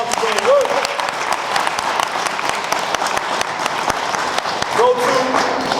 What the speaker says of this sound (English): Can we show him some love and give him a round of applause for his work?